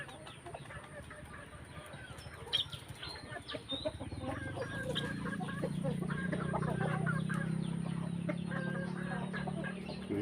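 Seven-month-old roosters and hens cluck and murmur together in a garden, a continuous busy chatter of close fowl calls that grows fuller partway through.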